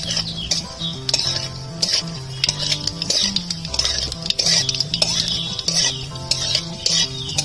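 Dried red chillies, bay leaf and black cumin stirred in hot oil in a pan, giving a steady close sizzle with repeated scraping and clinking of a spoon against the metal.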